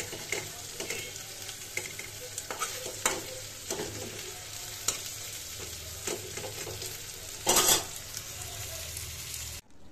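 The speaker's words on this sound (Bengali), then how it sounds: "মাছটা ভাজা হয়ে গেল" Fish frying in a pan at home, a steady close sizzle with occasional stirring scrapes and one louder burst of spitting oil near the end, no talking.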